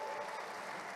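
Crowd applause after a song at a powwow exhibition in the Mall of America, a steady wash of many hands clapping at moderate distance.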